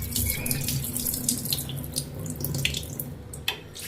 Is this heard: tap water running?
yes